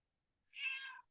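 A house cat gives one short, clear meow close by, rising and then trailing off in a quiet room.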